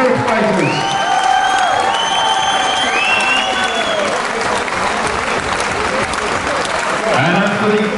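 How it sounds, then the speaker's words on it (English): Sustained crowd applause for both boxers at the close of a six-round amateur boxing bout, loud and steady throughout with cheering and voices mixed in the hall. "a massive round of applause for both fighters."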